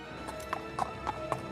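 A horse carrying a king clip-clops along toward a temple: four distinct hoofbeats at an even walking pace, crisp and fairly close, with no voices over them.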